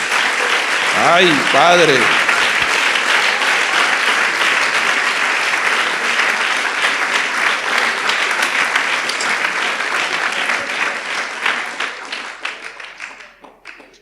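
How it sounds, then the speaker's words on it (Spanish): Applause from a church congregation fills the space, loud and sustained, with a voice speaking briefly over it near the start before the clapping slowly dies away. "Vamos a darle un aplauso al Señor"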